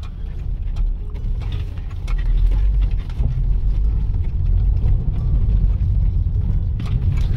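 A 2014 Volkswagen Beetle Cabrio 1.8T rolls over a rough, bumpy street, filling the cabin with a loud, continuous low road rumble and rapid irregular thumps and rattles from the suspension.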